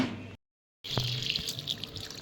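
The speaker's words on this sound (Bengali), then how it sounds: "এইদিকে দেখো আমার পিসি সবজি ধুচ্ছে" Tap water runs into a basin as vegetables are rinsed under it, heard up close and steady after a short break of silence, with clatter from handling.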